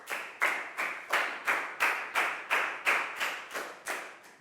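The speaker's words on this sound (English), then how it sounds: "Big round of applause for Chew" A Year 4 science class claps for a student in about eleven evenly spaced, fairly loud, unison claps, close and rhythmic, with no talking over them.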